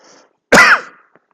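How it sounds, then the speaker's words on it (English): A single sharp cough or throat-clear bursts out close to the microphone, loud and brief, in an otherwise quiet moment between stretches of a man's speech. "Don't cough while holding the cup."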